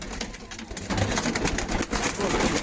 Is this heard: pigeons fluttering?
yes